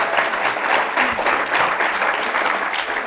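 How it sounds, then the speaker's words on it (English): Audience applause at a live conference session in Boston, a steady, dense patter of many hands clapping close by, filling the whole stretch without pause. "Big round of applause for these two."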